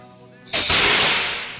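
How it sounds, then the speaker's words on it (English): A break-barrel air rifle fires FX Hybrid slugs at clay: one sharp, loud crack bursts out of near silence and then fades off over about a second. "It's time to shoot some clay."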